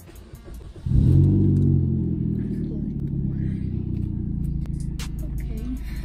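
A modified car engine cranks and fires after a quiet moment, then revs in a loud, close, rumbling surge. It settles into a rough, throaty idle as voices speak quietly in the background.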